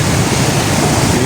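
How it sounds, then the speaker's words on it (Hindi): Floodwater pours from the raised gates of a barrage into a canal at the New Head Sidhnai, a loud steady roaring rush with no break. "दर्रे फुल उठाए हुए हैं ये, और यहाँ पानी जो नहर है उसके ऊपर गिर रहा"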